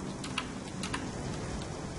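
Rain in a video game, a steady soft patter of drops with a few sharper taps, moderately quiet and continuous with no voices.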